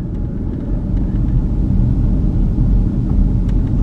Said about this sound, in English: Now, they're driving through downtown.